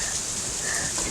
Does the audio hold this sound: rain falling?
yes